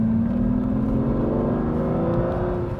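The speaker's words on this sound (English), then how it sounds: "You get such a roar from the exhaust." Aston Martin active exhaust giving a loud, close, throaty roar as the engine speed-matches on a downshift, a continuous deep drone sliding slowly in pitch for nearly three seconds.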